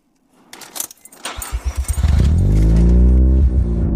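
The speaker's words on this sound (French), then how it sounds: "Un moteur rotatif qui sonnait si bien" A Mazda RX-7's rotary engine cranks, catches and settles into a loud, steady idle with a deep burbling hum that fills the end of the clip.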